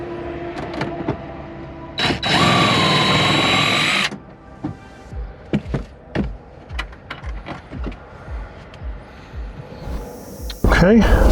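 Power tool spinning out the 10mm bolts on a Toyota 4Runner tail light: one loud, steady whirring burst of about two seconds, followed by clicks and handling knocks of the work.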